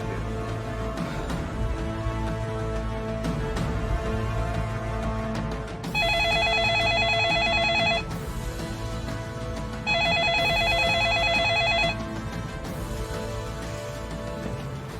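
A telephone bell rings loudly in two separate bursts of about two seconds each, layered over continuous dramatic background music.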